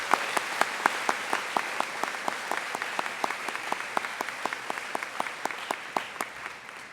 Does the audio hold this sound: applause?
yes